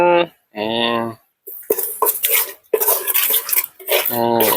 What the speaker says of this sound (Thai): ในหม้อนี้มีอะไรมั่งนะ มีกะทิมีพริกแกง